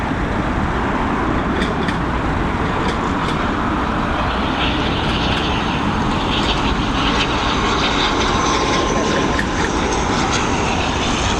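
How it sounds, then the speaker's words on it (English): An ATR turboprop airliner drones steadily on approach to land at Dublin Airport, a loud continuous engine roar with a broad rushing noise that holds throughout with no talking. "This ATR's taking a year to come in."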